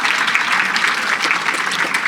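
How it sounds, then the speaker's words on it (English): An audience at an awards ceremony honoring school principals applauds in a dense, steady wash of clapping that holds evenly throughout. "You can clap for the principals."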